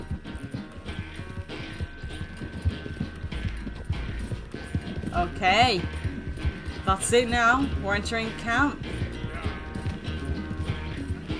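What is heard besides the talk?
horse hooves trotting in video game Red Dead Redemption 2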